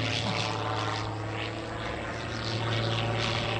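An aerobatic propeller airplane passes at the 2020 New York International Air Show, its engine a loud, continuous droning roar that swells slightly, with no talk.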